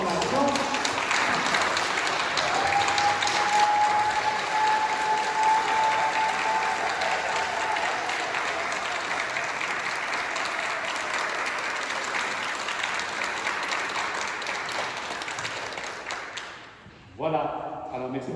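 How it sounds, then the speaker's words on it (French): Sustained applause from a congregation at a Pentecost Mass, honouring diaconate candidates: a broad, even wash of many hands clapping in a reverberant church, with a faint tonal hum underneath, tapering off before a brief voice near the end. "on va vous applaudir un peu"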